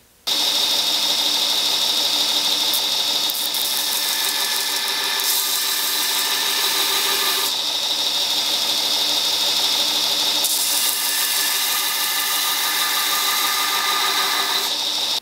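A grinder grinds the primary bevels of a knife blade made from an artillery shell, a loud continuous high whine held steady throughout with brief shifts in pressure and no talking.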